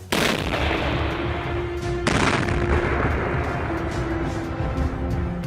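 A continuous roar of blasts and rumbling detonations in a minefield, dense and loud throughout, with a sharper burst partway through.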